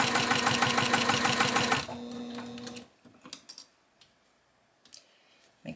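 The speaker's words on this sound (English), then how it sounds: "now I'm going to sew this down with a 1/4-inch seam allowance" A sewing machine runs fast and loud while stitching a quarter-inch seam on a quilt, a rapid even chatter that lasts under two seconds. Quiet handling noises follow.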